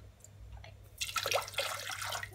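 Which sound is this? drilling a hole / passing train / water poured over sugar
water poured over sugar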